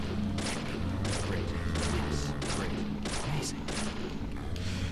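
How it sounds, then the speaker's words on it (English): Repeated gunshots from a weak handgun in the Deadly Premonition video game, a series of roughly six bursts at a steady pace over a constant low hum of game background sound. "So back to shooting this guy again."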